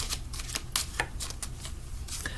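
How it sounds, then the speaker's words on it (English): Tarot cards shuffled by hand in a steady run of crisp riffling bursts, close and fairly quiet, with no talking. "I just realized I'm shuffling."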